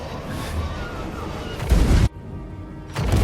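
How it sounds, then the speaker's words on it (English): A Hell Cannon fires in a Warriors of Chaos video game, giving a loud, heavy booming blast that briefly swells before cutting off abruptly. A second burst starts near the end over a steady game backdrop. "Every time you fire the Hell Cannon"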